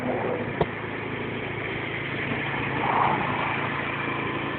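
A Direct Bikes Viper 50 motorbike engine idles steadily at close range, a continuous low rumble with one brief click early on and a slight swell in level near the end, no voices present.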